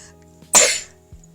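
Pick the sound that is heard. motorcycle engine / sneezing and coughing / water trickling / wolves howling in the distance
sneezing and coughing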